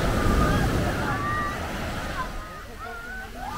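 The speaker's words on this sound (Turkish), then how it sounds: "Dalgalı çılgın bir deniz." Rough sea waves along the coast at Assos wash and surge in a continuous, loud roar with gusty wind noise, while faint voices can be heard in the background.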